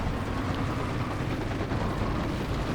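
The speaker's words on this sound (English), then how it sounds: "Light artillery barrage." A light artillery barrage in a strategy video game: a continuous dense rumble of overlapping explosions, steady and moderately loud for the whole stretch.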